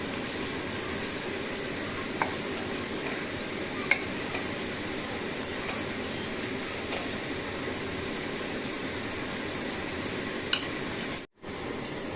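Spice paste for Mughlai-style beef bhuna stir-fried in a pan with nutmeg and mace, giving a steady close sizzle with faint scraping stirs throughout, and a brief drop to silence near the end.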